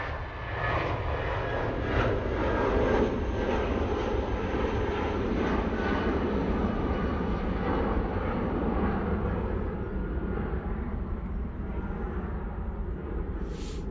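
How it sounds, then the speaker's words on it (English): An Etihad Boeing 777 jet taxis at Manchester Airport, its engines a steady, fairly distant whine and rumble holding level throughout. "So that's Etihad triple making its way down to the bottom now."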